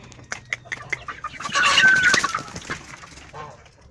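Chicks chirping and clucking in short bursts, with a louder cluster of calls in the middle, close by and without talk.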